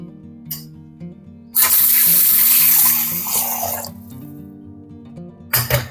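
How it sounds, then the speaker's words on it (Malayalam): Water pours in a loud, splashing stream over Malabar tamarind for soaking while a clay pot is seasoned, lasting a couple of seconds, then tapers off, with faint clinks before and after. "കുറച്ച് വെള്ളം ഒഴിച്ച് കൊടുത്തിട്ടുണ്ട് കേട്ടോ"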